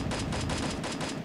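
Rapid automatic gunfire from the battle game Free Fire, a tight burst of evenly spaced shots fired in quick succession, loud and close, with no voices over it.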